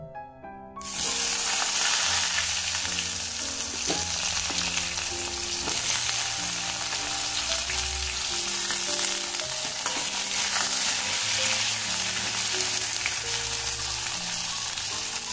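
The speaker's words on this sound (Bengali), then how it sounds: "এরপর ওই তেলের মধ্যে আমি দিয়ে দেব কেটে রাখা বেগুন" Cut brinjal dropped into hot oil in a pan for a shukto: a sudden burst of loud, dense sizzling that settles into a steady close crackle, with a few light utensil clinks and no voices.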